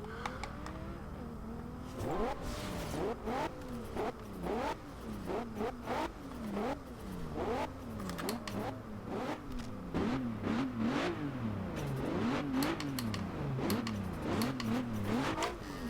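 A 2014 Maserati Ghibli S engine with upgraded turbochargers and exhaust revs repeatedly in Forza Horizon 2, pitch sweeping up and down through quick gear shifts, loud and continuous for the whole stretch.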